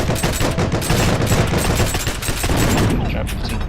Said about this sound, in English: Trying to put some bullets in the doorway